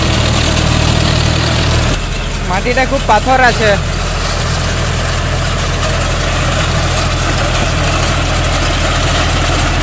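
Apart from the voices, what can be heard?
John Deere 5050D tractor engine running with rotavator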